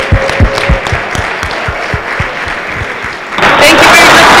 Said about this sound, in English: let's give a round of applause to all of our new hires.